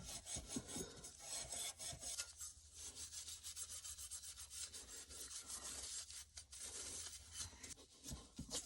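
A vintage radio part gets a quick scrub, close and continuous rasping strokes of a brush or pad rubbing back and forth with uneven rhythm, alone without speech.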